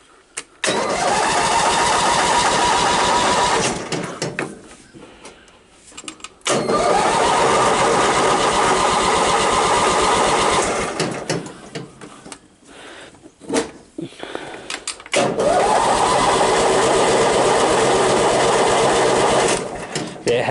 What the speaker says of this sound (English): let's see if this thing will fire up